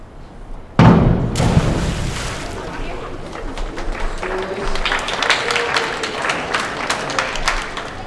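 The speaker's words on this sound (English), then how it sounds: "It's a nice round of applause." A sharp splash-like thud of a dive at a high school swimming and diving meet, followed by a crowd's round of applause that builds and carries on steadily in a reverberant natatorium.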